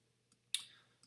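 Computer mouse right click while working in Logic Pro X music recording software: a small faint tick, then a crisp sharper click, and another light click at the end, isolated in quiet.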